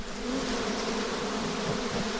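Honeybees buzzing around beehives in an apiary at a honey farm, a dense, continuous, close swarm drone holding steady throughout with no talk.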